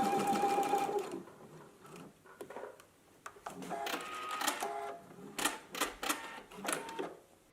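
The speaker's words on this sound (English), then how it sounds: "I'm just going to go back and forth a few times over the zipper teeth to shorten it" A sewing machine stitches back and forth over zipper teeth while tacking a garment fly, a close mechanical whirring in short repeated bursts with pauses and clicks between them.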